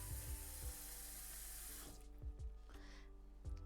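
Tap water pours steadily into a saucepan to cover shrimp, a constant rushing flow that shifts in tone as the pan fills, with a few soft clanks of the pan beneath.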